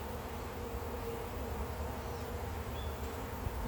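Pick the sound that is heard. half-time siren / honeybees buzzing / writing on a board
honeybees buzzing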